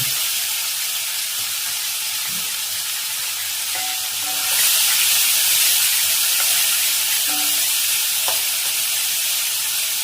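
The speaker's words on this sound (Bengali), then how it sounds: "সেই চিংড়ি মাছটা এখন ভেজে নেব।" Steady hiss and sizzle of shrimp frying in a pan, continuous and close, growing slightly louder midway with a few faint clinks.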